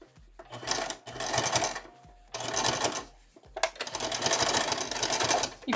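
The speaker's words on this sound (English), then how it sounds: "I'm just going to sew down with that zipper right in the middle." A sewing machine stitches a zipper down onto fabric for a tote bag in three rapid bursts, separated by short pauses, close and clear.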